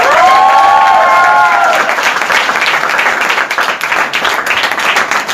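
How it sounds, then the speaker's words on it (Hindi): Applause from an audience at a training session, a dense steady patter of clapping that rises after a voice fades out in the opening seconds and carries on to the end. "तालियां तो ऐसे दे रहा"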